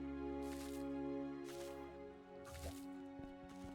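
Water from a sprinkler drips and splashes in the mining-and-farming game Hydroneer, a few soft wet drops and sloshes heard faintly over a steady low machine hum.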